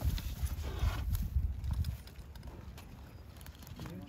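Several horses walk on the ground nearby, their hooves clip-clopping in an irregular rhythm that is loudest early and then softens, with no talking.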